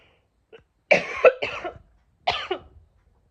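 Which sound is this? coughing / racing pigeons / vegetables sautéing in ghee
coughing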